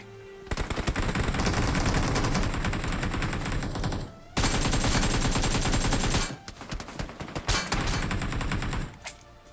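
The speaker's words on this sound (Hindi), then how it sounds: "फायरिंग हो रही है" Automatic gunfire in the mobile battle royale game BGMI, dense sustained bursts with two brief pauses, then scattered shorter volleys toward the end, loud and close.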